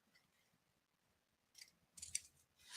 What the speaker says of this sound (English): Let's cut maybe a piece of that.